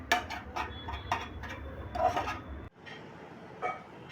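Egg bhurji being scraped from a pan onto a plate: a series of short metallic scrapes and clinks of a utensil against cookware, close and fairly loud, with a sharp cutoff partway through and quieter scraping afterward.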